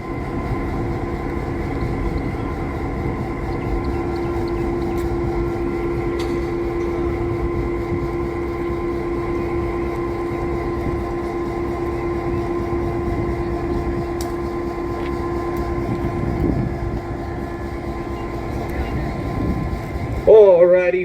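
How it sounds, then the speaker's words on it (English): Locomotive 710 reverses to reconnect with its train on a heritage railway, a steady rumbling engine drone with rail noise throughout, fairly close, and a brief squeal near the end. "the 710 will reverse backwards and reconnect with our train back on track number 1"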